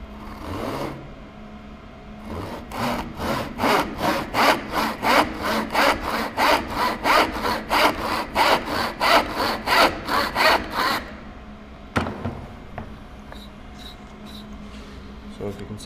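A hand saw crosscuts a piece of wood along an unscored line, with a couple of starting drags and then a steady run of about twenty rhythmic rasping strokes, close and loud, ending in a clatter and quieter handling.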